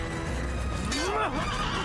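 A horse neighs loudly in a rising and falling whinny in the video game Assassin's Creed, over a steady background rumble, with faint hoof clatter.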